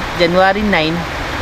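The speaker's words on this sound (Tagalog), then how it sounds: "Ayan, umuulan mga idol" Steady rain falls with an even, continuous hiss while a voice talks over it.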